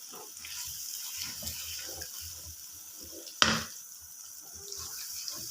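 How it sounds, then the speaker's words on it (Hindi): Water runs steadily into a cooking pot of qeema karela (minced meat with bitter gourd) with a soft, continuous trickle, joined by a single brief clatter midway. "इसमें मैंने अब थोड़ा सा पानी ऐड किया।"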